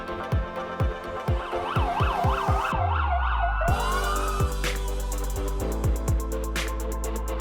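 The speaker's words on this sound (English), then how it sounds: "Police car." A toy police car sounds its electronic siren, a rapid warbling wail that repeats over a background of beeping toy tones and a low drone.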